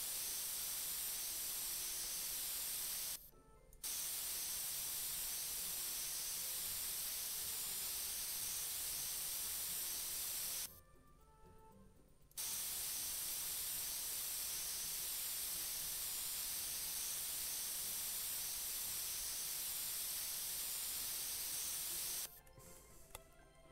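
Spray paint tool hissing in The Sims 3, a steady broadband spray held for long stretches and broken by two short pauses, loud and alone.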